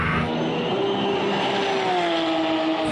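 A Porsche 997 GT3 Cup race car with a short gearbox accelerates hard, its engine note rising steadily in a loud continuous howl heard close throughout.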